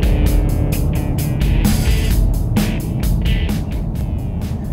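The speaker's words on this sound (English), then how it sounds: "dominant feature of the driving experience is this 5-litre V8 engine." A 2016 Ford Mustang GT with a 5-litre V8 engine gives off a loud, steady low rumble with rhythmic pulsing, heard close up from the car without any talking.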